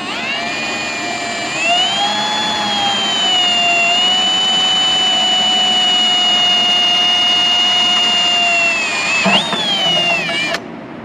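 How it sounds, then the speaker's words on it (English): A power drill with a 9/64 screw bit bores a pilot hole for a roll pan install on an 1986 C10 pickup, a loud, close, steady high whine that holds for several seconds, then shifts pitch and cuts off. "let me get my pilot hole ready"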